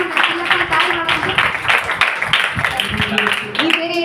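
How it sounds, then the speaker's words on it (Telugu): Group of children clapping their hands together, a dense burst of loud, fast claps sustained throughout and mixed with voices. "క్లాప్స్ కొట్టండి అందరూ"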